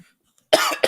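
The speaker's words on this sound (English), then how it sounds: "you're still not over that cough" A single sharp cough after a moment of near silence, close and fairly loud, with a short second burst at the end.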